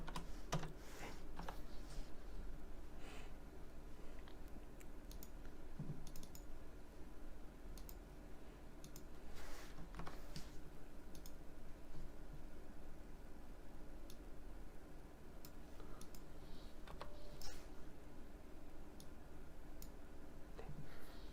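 Soft, quick keystrokes on a computer keyboard, with scattered clicks and an occasional sharper key press, faint and close over a steady low room hiss.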